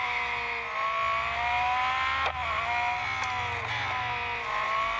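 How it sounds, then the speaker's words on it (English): A racing video game car, a hybrid Ferrari, whines steadily at high revs with layered engine tones, a brief scrape or thump breaking in twice, and no talk. "this car handles more like perhaps the likes of Lotus Evija, where it accelerates ridiculously fast"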